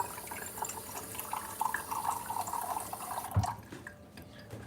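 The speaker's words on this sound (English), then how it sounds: "I'll fill up the tap water," Tap water runs steadily into a container at close range, a continuous splashing fill with dripping, then cuts off near the end.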